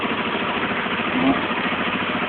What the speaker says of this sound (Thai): นี่รถสตาร์ทอยู่นะครับ นะครับจับเครื่องที่รีโมท